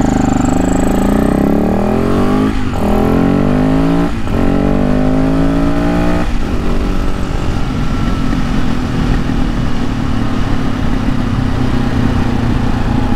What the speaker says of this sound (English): Hey, another Supermoto.